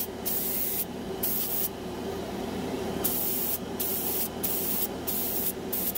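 A cheap $20 airbrush sprays metallic craft paint on heavy, giving a steady, loud hiss that cuts in and out as the trigger is pressed and released, with brief dips between bursts.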